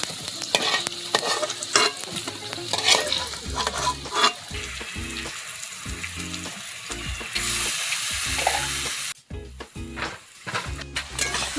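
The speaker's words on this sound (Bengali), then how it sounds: "ওই তেলে আলুটা ভেজে নেব।" Potatoes fry in oil on a clay stove while a mutton biryani is being cooked, a loud continuous sizzle with clattering stirring throughout and a brief dip near the end.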